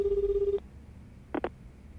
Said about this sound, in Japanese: あ、電話か。